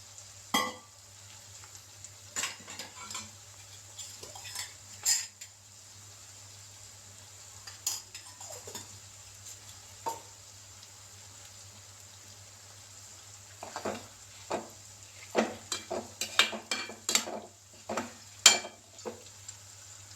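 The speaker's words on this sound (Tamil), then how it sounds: "இன்னொரு கடாய் வச்சு கொஞ்சமாக எண்ணெய் ஊற்றி இந்த சிக்கனையும் கொஞ்சம் மஞ்சள் பொடியும் போட்டு வதக்கணும்." Chicken sautéing with turmeric in a little oil in a kadai, a faint crackle under a low steady hum, broken by repeated sharp spatula scrapes and clinks that cluster more densely toward the end.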